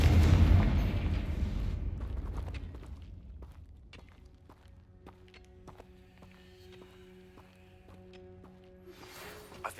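The Confringo blasting spell explodes in Hogwarts Legacy, a heavy booming blast that fades over a couple of seconds into quiet ringing tones and light scattered ticks, with a small burst at the end.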